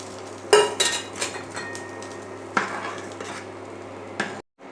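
A utensil scrapes and knocks against a pot while rice flour batter is stirred, giving several sharp clanks and scraping strokes at irregular intervals, close by, with no talking.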